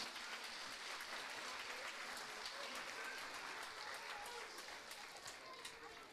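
Distant, quiet applause from an audience at a 2022 dance show in a cultural centre in Płońsk, a soft even hiss of many clapping hands that holds steady for several seconds.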